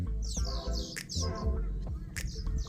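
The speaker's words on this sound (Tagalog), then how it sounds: "Dami ibon, no?" Many birds chirp and tweet in the morning, a busy overlapping chorus of quick, high calls, some close and loud, over a low throbbing hum.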